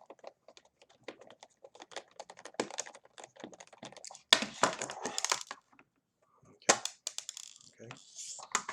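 A screwdriver works the screws out of a Nintendo game cartridge, giving close, irregular small clicks and scrapes of plastic and metal, with a few louder bursts of handling and pauses between them.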